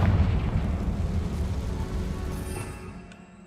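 A Confringo fire spell bursts in Hogwarts Legacy with a loud, rumbling explosion whose deep roar stays heavy at first, then slowly fades over a few seconds, no voices present.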